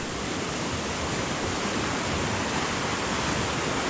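A river flows past in a forest with a steady, dense rushing wash, continuous and fairly close, with no voices over it.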